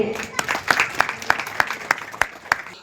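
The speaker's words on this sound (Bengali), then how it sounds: "সকলকে বলবো একটা জোরে হাততালি দিতে।" A crowd at a local anti-drug awareness camp inauguration in a neighbourhood ground claps, a fairly close ragged patter with several sharper individual claps standing out at a loose, regular beat.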